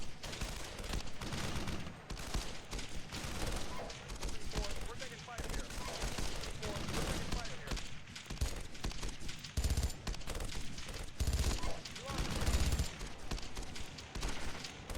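Dense, continuous gunfire and explosions from the tank simulation game Steel Beasts fill the mix, with repeated overlapping shots and bursts at steady loudness and speech mixed in underneath.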